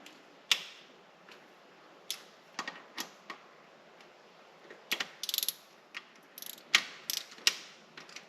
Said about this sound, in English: I'm going to go to 10 foot-pounds